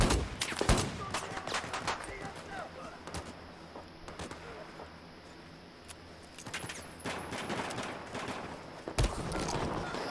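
Pistol gunfire in the video game Battlefield 4, a series of sharp shots scattered over a quiet background, heaviest near the start and end, with voices talking at times.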